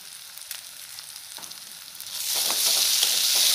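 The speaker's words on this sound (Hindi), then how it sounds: "1-2 मिनट कुक करेंगे" Red chili powder and masala sizzling in a hot pan while cooking chole, a quiet frying hiss that swells suddenly louder and steadier halfway through, with faint scraping stirs.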